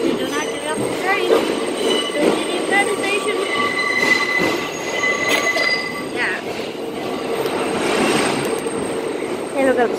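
A New York 6 subway train runs on its tracks toward Brooklyn Bridge, filling the clip with a loud, steady rumble. High metallic wheel squeals and occasional clacks ride on top throughout.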